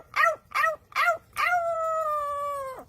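A parrot imitates a dog howling: three short rising-falling yelps, then one long sustained howl that holds steady before cutting off, close and clear with no talk.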